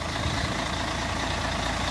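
A 2010 Mercedes-Benz Tourismo coach with a BlueTEC 5 diesel engine idles steadily, giving a low, even rumble close by with no talk over it.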